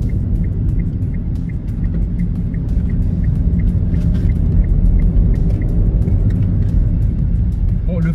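A Kia Rio III with a naturally aspirated engine pulling under acceleration, a loud, steady low droning rumble heard from inside the cabin, with a faint ticking over it and no talking.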